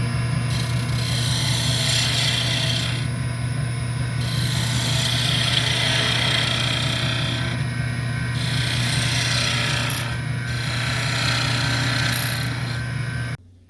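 A spindle gouge held against a grinder wheel makes a steady motor whine under a bright, hissing rasp of steel on the wheel that swells and fades in passes, loud and close with no talk.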